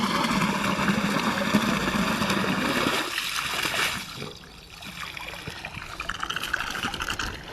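Water rushes and splashes loudly while a farm field is irrigated. The flow is dense and continuous, then drops to a softer trickle and gurgle about midway.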